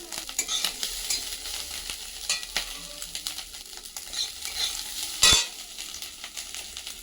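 Freshwater snails (gorii) frying in hot oil in a pan, with a steady low sizzle, scattered clinks and scraping stirs, and one sharper metallic knock near the end, with no talking.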